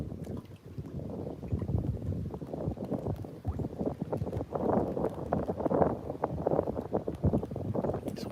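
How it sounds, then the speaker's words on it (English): Strong wind buffets the microphone on a fishing boat out on the water during an all-day fishing outing, a steady rough low rumble with gusts that swell and fade, no speech. "This wind is killer,"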